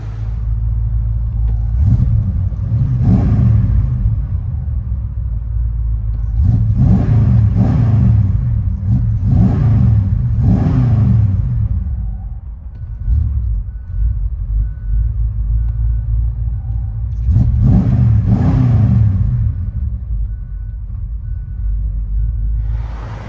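A 1989 Dodge Ramcharger with a 5.9L V8 and Dynomax exhaust revs loudly, heard from inside the cab: deep rumbling bursts of throttle rise and fall three times over a steady low idle, with no talking.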